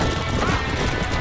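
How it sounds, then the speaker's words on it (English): Horse galloping in the Red Dead Redemption video game during a barn fire, heard as dense, steady hoofbeats buried in a continuous wash of loud game noise, with no talk. "We gotta get to the horse!"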